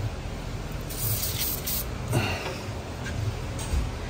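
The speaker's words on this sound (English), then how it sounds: "So we're going to spray this foam here." ATS Bullseye leak detector foam sprayed from a can onto a car's EVAP system, steady hissing bursts of spray with short pauses in between.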